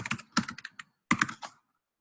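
Quick bursts of computer keyboard typing as a comment is entered, with rapid clustered keystrokes, a short pause, then another flurry, fairly close and alone with no voices.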